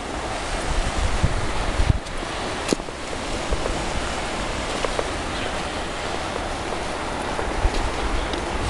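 Waves of the Caspian Sea breaking on the shore below a rooftop on the coast at Aktau, a continuous loud surf roar mixed with gusty wind buffeting the microphone and a few sharp knocks.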